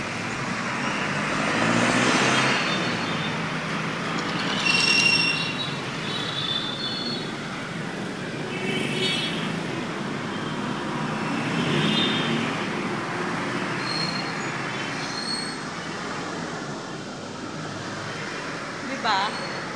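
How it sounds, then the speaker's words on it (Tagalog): Steady roar of highway traffic close by, with vehicles rushing past in continuous broadband noise and occasional louder swells as they pass; a voice talks over it at times. "Highway siya kaya maingay guys o."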